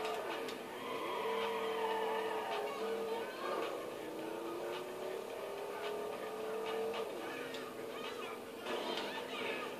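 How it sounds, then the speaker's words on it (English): Racing game car engine in Midnight Club droning steadily with rising and falling revs, a brief impact of one car wrecking into another, and scattered clatter throughout, loud and continuous. "He just wrecked into my car."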